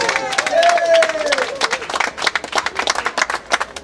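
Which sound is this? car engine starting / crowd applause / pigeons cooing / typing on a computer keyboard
crowd applause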